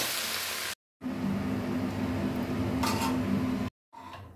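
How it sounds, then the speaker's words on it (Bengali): Spice masala with chili and turmeric powder is fried and stirred in a pan for gota sedhho, a steady close sizzle and hiss with occasional utensil scrapes, broken by two brief silent cuts. "লঙ্কা গুঁড়ো, হলুদ গুঁড়ো, এগুলো দিয়ে আমরা এখন এটাকে ভালো করে মশলাটা কষিয়ে নেব।"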